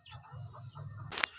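Free-range village chickens (ayam kampung) cluck softly and steadily in their coop, a low murmuring flock close by, ending with a brief sharp higher-pitched noise.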